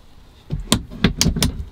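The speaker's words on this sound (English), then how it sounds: "close the door" A wardrobe door inside an Auto-Trail Tribute T-670 motorhome is pushed shut, a few sharp close clicks and knocks in quick succession as it latches.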